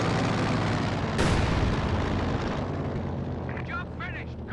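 Mortar barrage in Company of Heroes 2, a dense, continuous rumble of blasts with one sharp impact early on, steady and loud before easing slightly, with a few faint high whistles near the end.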